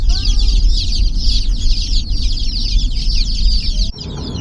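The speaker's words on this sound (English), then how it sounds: "We got chicks. Listen." A crowd of about 42 chicks peeps constantly in a basement, a dense, loud chorus of high chirps heard close up that drops away abruptly near the end.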